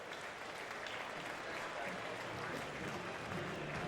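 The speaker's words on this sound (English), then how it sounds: "Maxwell's going to get a nice little round of applause from the crowd here at Steinbrenner Field" A crowd at Steinbrenner Field applauds during a 2011 Pirates spring training baseball game, a modest, steady round of clapping heard from a distance, faint beneath a broadcast voice.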